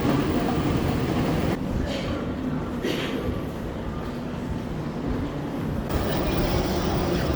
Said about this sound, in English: I got on the train to London Central.